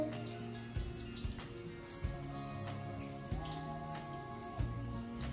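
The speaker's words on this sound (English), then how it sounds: "Now we will wash the leaves slowly and gently." Skeleton leaves are washed slowly and gently in water to clear off green matter, producing soft splashes and trickling drips over a low steady background, without speech.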